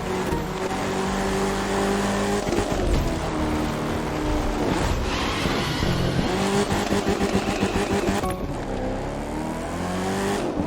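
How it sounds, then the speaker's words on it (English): Monster truck engine droning and revving in the racing video game The Crew 2, a loud steady motor with shifting pitch and bursts of acceleration running continuously without talk. "You sure know your way around a monster truck."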